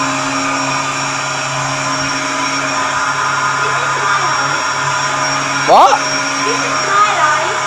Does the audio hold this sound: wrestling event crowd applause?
no